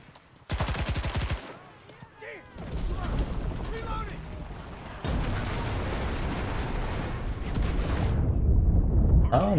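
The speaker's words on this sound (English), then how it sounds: "And it's our artillery strike, it's not an enemy artillery strike." Artillery strike explosions rumble in a video game, booming blasts and rattling gunfire in heavy overlapping bursts that grow into a dense, loud barrage, with a voice talking over parts of it.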